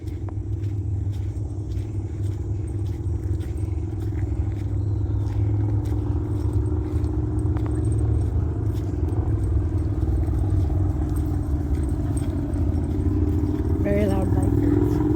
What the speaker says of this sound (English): Do you hear the motorcycles?